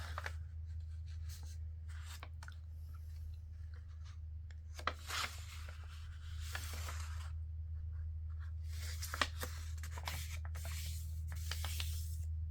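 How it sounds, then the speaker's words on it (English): Folded paper being burnished flat for a double pocket, a steady dry rubbing and scraping in short repeated strokes against a constant low hum, close and fairly quiet. "let me just burnish it down"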